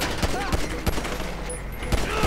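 Pistol fire in Grand Theft Auto V, several sharp gunshots in quick irregular succession, loud and close, with a player talking over the game sound.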